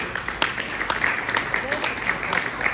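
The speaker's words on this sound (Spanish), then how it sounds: "Give God a hand. Dar un aplauso al Señor." A church congregation at a bilingual English-Spanish service applauds with a dense, steady wash of clapping, crisp hand strikes poking through, and voices faintly mixed in.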